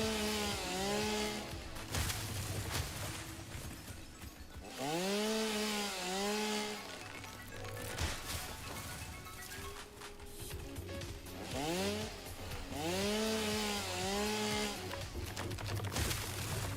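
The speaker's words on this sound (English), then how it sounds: "Where's the chainsaw?" A chainsaw runs in bursts, its engine revving up and dropping back repeatedly in a rising and falling whine, loud and close, with pauses between pulls.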